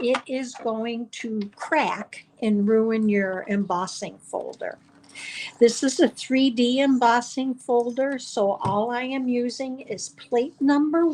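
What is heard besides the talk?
No everyday noise stands out behind the speech.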